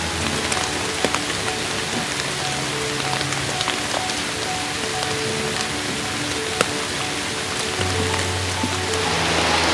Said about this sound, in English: it has started raining heavily and we cannot go out to photograph the golden langurs today